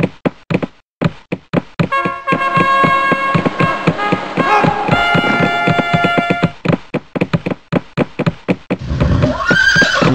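A horse whinnies loudly in the PC game Rival Realms amid a rapid run of knocking, clopping hoofbeats and tonal game sounds, with a second shrill neigh near the end.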